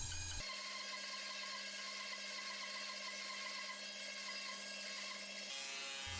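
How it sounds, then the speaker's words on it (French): A band saw rips wooden boards for a baby cradle's headboard panels, giving a faint, steady mechanical hum that cuts in abruptly and stops near the end. "je commence par les refendre à la scie à ruban."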